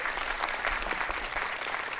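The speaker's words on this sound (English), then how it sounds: "so it was funny when they clapped" Studio audience at the Dr Phil show breaks into applause, a dense burst of clapping from many hands that stays steady and fairly loud for the whole short stretch.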